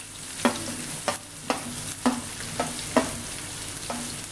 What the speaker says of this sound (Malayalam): ഈ മീൻ വറുത്ത എണ്ണയിലേക്ക് തന്നെ നമ്മൾ അരിഞ്ഞു വെച്ചിരിക്കുന്ന സബോള നല്ല ക്രിസ്പി ആയിട്ട് ഫ്രൈ